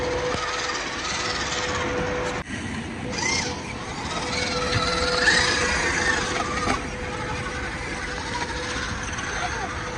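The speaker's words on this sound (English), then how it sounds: "Hope you don't mind all the other RC noise in the background." Several RC cars driven by kids whine and buzz steadily in the background, a continuous high-pitched motor drone that swells slightly midway and persists throughout with no voices.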